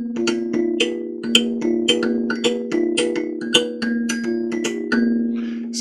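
African thumb piano (kalimba) played with a mallet alongside a drum: bright plucked tones in a repeating rhythmic pattern over a steady sustained low note, close and clear, with no voices.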